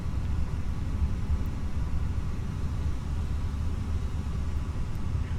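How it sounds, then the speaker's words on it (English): Engine number 2 of a Fenix Airbus A320 spooling up in Microsoft Flight Simulator 2024: a steady, dense low rumble with a faint airy hiss above it, holding level throughout with no voices. "Start engine number 2."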